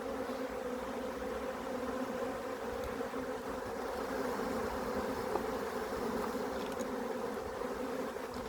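Honey bees drone in a dense, continuous buzz around an open nucleus hive, a close and steady swarm hum with no voices over it.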